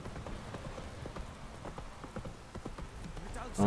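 Roach the horse's hooves clip-clopping in The Witcher 3: Wild Hunt, a quick, fairly even patter of hoofbeats at a trot, moderately close, with a soft rain-like hiss beneath and a brief louder noise at the very end.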